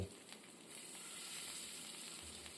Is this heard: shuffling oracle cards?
no